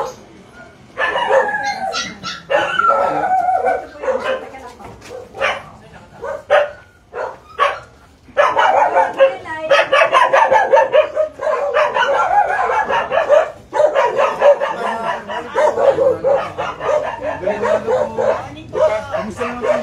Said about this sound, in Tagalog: May aso raw.